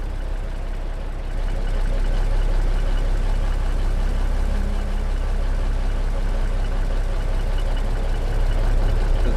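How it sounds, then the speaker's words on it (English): A rusty Peterbilt 359 Outlaw with missing exhaust pipes idles in American Truck Simulator, a steady, loud, low diesel rumble that carries on unbroken and alone. "Truck is 359 Outlaw,"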